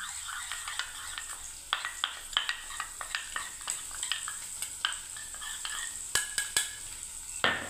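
Paneer frying in a pan, a quiet bed of sizzling oil broken by frequent sharp clinks and scrapes of a utensil stirring against the metal.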